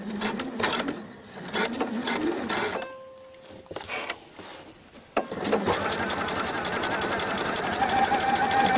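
A sewing machine stitches a straight seam along a strap on a belt bag, first in short stop-start bursts with quiet handling, then a long, steady, close run of rapid rhythmic clatter.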